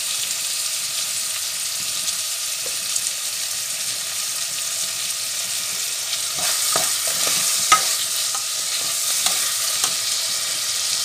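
Peppers cooking in a pan give a steady, close sizzling hiss throughout, with a few faint crackles and small spatters toward the end; no voices.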